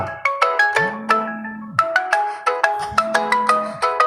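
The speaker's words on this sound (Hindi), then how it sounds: "अरे फोन आ रहा है भाई, कट जाएगा।" A phone ringtone plays alone, a bright repeating melody of quick electronic notes cycling twice, loud and close.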